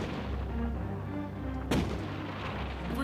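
A ship's cannon fires in a single sharp, booming shot over a low, continuous rumble of battle ambience in a naval scene from a TV drama.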